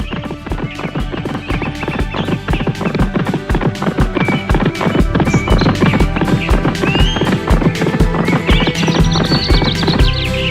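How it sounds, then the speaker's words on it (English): Rapid, steady hoofbeats of a galloping horse pound in a driving rhythm throughout, loud and close, with no voices. "Now the horse took off as fast as he could."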